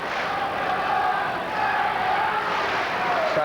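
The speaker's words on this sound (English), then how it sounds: "the Australian fans had something to cheer about here" Australian football supporters in a stadium crowd at a 1981 youth championship match against Cameroon, a steady distant roar of cheering that holds evenly throughout.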